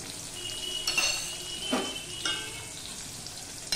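Cut potatoes with salt and turmeric sizzle in hot oil with a tempering, a steady close crackle with a few louder stirring scrapes, no talking.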